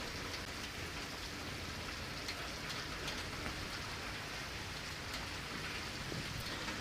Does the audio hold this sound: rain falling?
yes